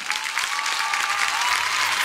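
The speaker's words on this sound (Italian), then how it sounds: "pregherei di fare un grossissimo applauso" Dense, steady audience applause at a festival tribute to Michael Jackson, continuous and fairly loud for the whole stretch with no talk over it.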